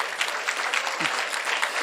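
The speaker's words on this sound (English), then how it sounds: "Give yourselves a round of applause." Steady applause from a crowd at a national student pinning ceremony, dense clapping filling the whole moment at even loudness.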